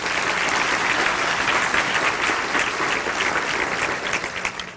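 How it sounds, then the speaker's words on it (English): An audience bursts into sustained, dense applause after a speech by the U.S. Secretary of Education at an event on education reform, loud and close, continuing steadily throughout before thinning slightly at the end. "Please give him another round of applause."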